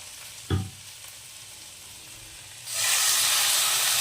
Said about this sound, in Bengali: কড়াইটা গরম হলে সামান্য তেল দিয়ে চিংড়ি মাছটা ভেজে নেব।